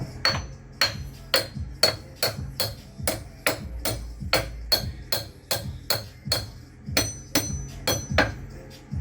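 A hammer strikes metal in a steady rhythm of about twenty sharp, ringing blows while a blown-up Cub Cadet riding mower engine is swapped, close and loud in a workshop.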